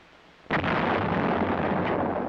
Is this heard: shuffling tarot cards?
no